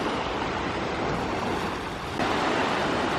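Ocean surf washes ashore at Sanibel Island, Florida, a steady loud roar of breaking waves with wind buffeting the microphone.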